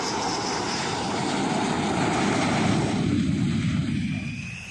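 A loud, steady aircraft engine roar with a broad rumble, holding strong before easing off near the end.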